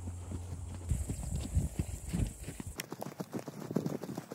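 A horse's hooves clip-clop steadily at a walk while being ridden on an outdoor riding arena, close and fairly loud, with a continuous background hum throughout.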